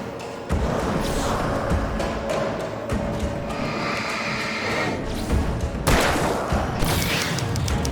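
Gunfire in the video game Alan Wake Remastered: a dense, loud run of shots and booming impacts layered over continuous game sound, with several sharp bursts near the end.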